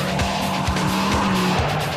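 A race car at full throttle on a racing circuit, a loud, steady engine roar with a rising whine and rhythmic pulsing, close to the car and with no talking.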